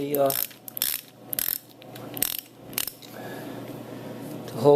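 A ratchet wrench clicks in several short bursts while loosening a shifter arm bracket bolt on a 2004 Harley-Davidson Dyna Custom, followed by quieter metallic handling sounds.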